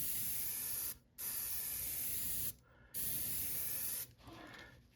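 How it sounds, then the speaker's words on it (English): Airbrush spray paint hisses in three long steady bursts with brief pauses between, applying wet color blends to a Bengal Ambush Megadog topwater fishing lure, close and alone. "you can spray your colors wet and let it fall"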